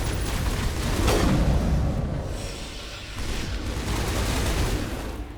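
A heavily upgraded weapon fires in the video game Mass Effect Legendary, a single massive blast that swells into a long rumbling boom and fades into a sustained roar.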